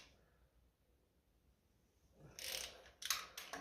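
Socket ratchet tightening a cylinder head nut on a 1957 Ferguson 35 TVO tractor, starting with faint quiet handling, then a few quick bursts of close ratchet clicking near the end.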